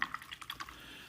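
A paintbrush is swished and rinsed in a cup of water during watercolor painting, giving a few soft, close drips and splashes over about a second, quiet and alone.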